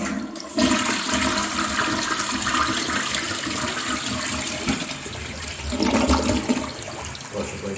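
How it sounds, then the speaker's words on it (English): A toilet flushes with a strong rushing swirl of water, then keeps hissing and trickling as the tank refills through a newly replaced fill valve, steady and close throughout, with no talking. "Hit the flush."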